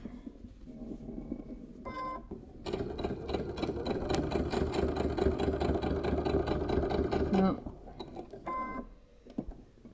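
A sewing machine stitches fabric for a food mixer cover, running in one loud, steady mechanical burst for several seconds, bracketed by quieter handling and short stops at either end.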